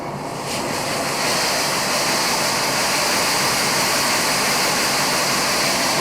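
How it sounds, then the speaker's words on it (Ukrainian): A seed-treating (grain-painting) machine runs with a steady, loud broadband whoosh and a faint high whine. It is fed from bags of grain by conveyor through a loading filter and holds constant after a brief ramp-up at the start. "запустили покрасочну машину."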